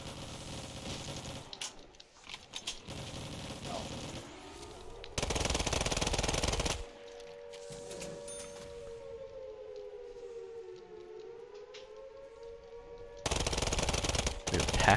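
Rapid automatic gunfire from a weapon in a Black Ops 3 custom zombies map, loud sustained bursts of a few seconds each, with a siren-like wailing tone and quieter game noise between them.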